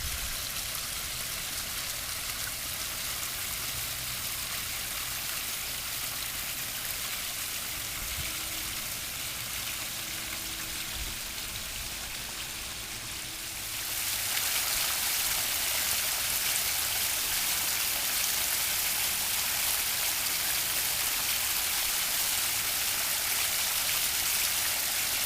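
Water streams steadily over a backyard pondless waterfall in Scotch Plains, New Jersey: a continuous, dense rush that stays constant throughout and grows noticeably louder and brighter partway through.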